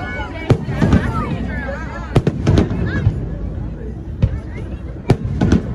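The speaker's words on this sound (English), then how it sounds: "We're sitting here posted up for the 4th of July fireworks." Fourth of July fireworks bursting over the waterfront across from the USS North Carolina battleship in Wilmington, North Carolina, several sharp booms spaced irregularly over a noisy crowd, with people talking and chattering nearby.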